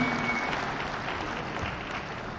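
A short stretch of continuous crowd applause at an Enugu government summit as a speaker exits the stage, even and moderately loud.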